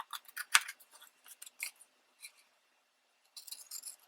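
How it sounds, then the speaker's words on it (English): Scissors snip a printed image in quiet, close bursts: a run of quick crisp cuts, a few scattered single snips, then a pause before another cluster of rapid snips. "So I think I'm going to trim this one down."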